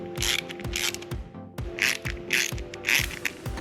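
Screws being driven into a metal part of a DeLorean Time Machine model kit, a repeated close ratcheting screwdriver clicking in short rhythmic strokes, with no talk.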